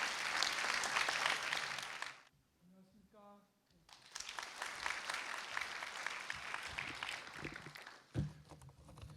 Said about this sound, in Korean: 여러분 큰 박수로 모셔보도록 하겠습니다.